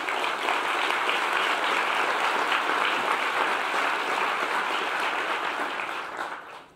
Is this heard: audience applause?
yes